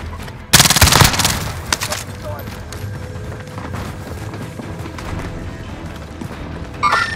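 Automatic gunfire in Call of Duty: Modern Warfare, a loud sudden burst of rapid shots followed by scattered shots and a steady battle rumble, with a few faint shouts.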